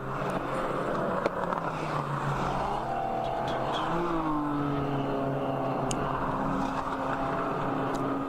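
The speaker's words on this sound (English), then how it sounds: "You can just hear those cars zinging." Endurance race cars zing past on the Daytona circuit, loud engine notes rising and falling as several cars sweep by in succession, with a few sharp higher whines cutting through the steady roar.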